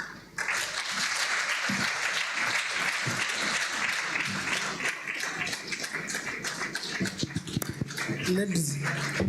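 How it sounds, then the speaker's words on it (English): An awards-event audience honouring young women leaders claps steadily for about nine seconds, a dense, even wash of applause with voices talking over it and a few louder taps near the end. "Another round of applause for Anne Mutoni."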